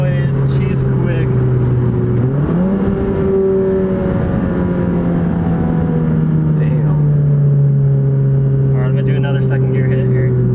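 A 350HP Volkswagen GTI accelerates in second gear. The loud engine hum from inside the car climbs briefly in pitch and then holds a sustained drone, with someone speaking over it.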